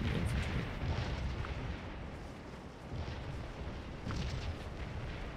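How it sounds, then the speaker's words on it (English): Artillery canister fire in the Civil War strategy game Scourge of War: Antietam, a continuous low rumble of distant booms and bursts with no speech over it. "They're going to be the focus of a lot of canister fire, though."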